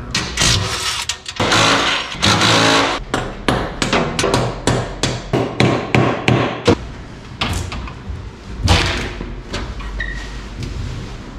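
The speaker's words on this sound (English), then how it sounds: "here's the first tool I'm gonna use to uninstall this ATM, this impact wrench. Just taking off the bolts." An impact wrench removes the mounting bolts from an ATM, firing a rapid run of loud, close rattling bursts that slow into scattered single hits with pauses between them.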